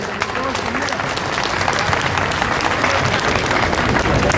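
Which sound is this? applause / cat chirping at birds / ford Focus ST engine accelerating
applause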